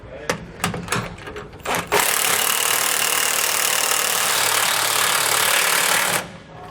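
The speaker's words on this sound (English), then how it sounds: "We'll be using a 15/16 inch socket for this." An impact wrench with a 15/16 inch socket runs down 5/8 inch bolts on a Roadmaster rear anti-sway bar under a 2017 Newmar Canyon Star motorhome, compressing the bushings: a few short clicks, then one loud continuous rattling burst of about four seconds, up close.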